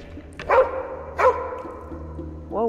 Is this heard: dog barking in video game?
yes